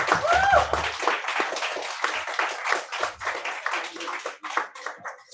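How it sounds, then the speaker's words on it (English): A small audience in an online meeting claps for a performer, with scattered, uneven hand claps that thin out and fade toward the end. "Can I get a round of applause once more?"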